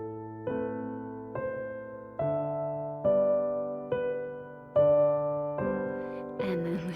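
A beginner classical piece plays on piano from sheet music, single notes stepping down one at a time at an even, unhurried pace, clear and close, alone.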